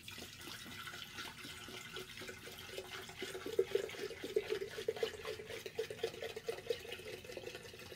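Paint thinner pours from a container into another vessel, a faint, continuous liquid trickle with soft gurgling bursts building in the second half, with no talking.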